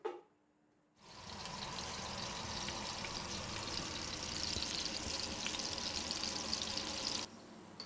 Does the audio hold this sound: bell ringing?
no